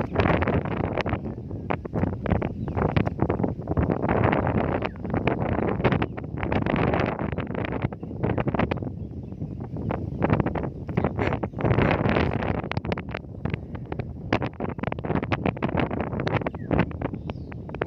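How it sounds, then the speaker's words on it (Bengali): Gusty wind blows outdoors beside the water during rod fishing for giant freshwater prawns, buffeting the microphone with a loud, continuous broadband roar that swells and dips throughout. "প্রচুর পরিমাণে বাতাস"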